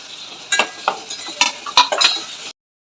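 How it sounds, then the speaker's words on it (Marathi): Turmeric and chopped tomato are dropped into a sizzling pan of fried onion for mung dal khichdi, giving a few bright bursts of crackle and stirring scrapes over about two and a half seconds before the sound cuts off. "एक चम्मच हळद टाकून घेऊया आणि एक टमॅटो चिरलेला होता तो टाकून घेऊ"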